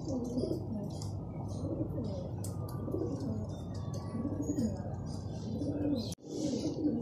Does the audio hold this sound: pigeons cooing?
yes